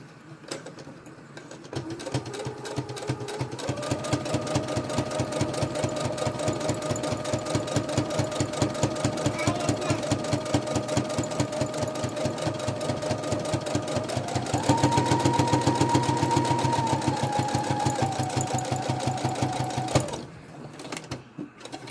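A Brother Project Runway sewing machine runs steadily for about eighteen seconds, its rapid needle rattle close and even with a hum that rises slightly in pitch partway through, then stops; no talking.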